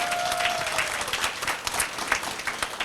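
A crowd at a housing company's special recognition award gathering breaks into applause, a steady wash of many hands clapping at moderate distance, even and sustained.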